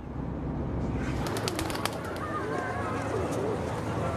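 Pigeons coo in Athens, soft repeated calls over a steady city hum with a few sharp clicks and flutters, moderately close.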